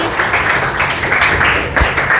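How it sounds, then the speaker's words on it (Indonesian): Classmates clap for Esther, a student, after her maths answer in a classroom; a brief, loud patter of hands with uneven bursts. "tepuk tangan untuk Esther"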